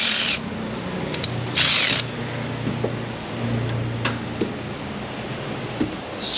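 A socket wrench ratchets in short bursts while working on a Ford 5.4 Triton engine in an F150 or F250, with quick clicking runs, brief pauses and metallic handling noises close by.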